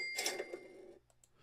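A voice imitates a cash register ringing, one short bright burst of tones lasting under a second, followed by a couple of faint clicks in near silence.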